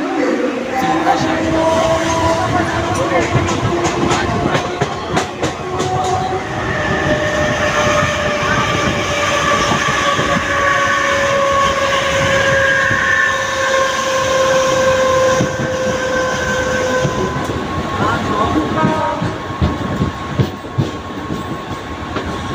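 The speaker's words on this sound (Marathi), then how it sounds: "ट्रेन असेल ती दिवा रत्नागिरी पॅसेंजर" The Diva–Ratnagiri passenger train (50105) rumbles past close by near Juinagar station for the whole stretch, with steady wheel noise, a long horn-like tone and voices mixed in.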